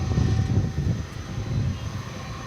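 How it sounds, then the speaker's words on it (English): Qantas Flight 8, a Boeing 787-9 jet airliner bound for Sydney, rumbles steadily at DFW Airport at night, a low broad engine roar with strong wind noise. "let us turn our attention now to Qantas Flight 8"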